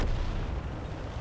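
FV4202 tank gun firing in World of Tanks, a single heavy, booming cannon shot with a sharp onset and a rumbling tail that fades over about a second.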